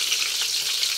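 Chicken frying in a pan gives a steady, dense sizzle with crackling spatter, close and loud, running continuously with no voices.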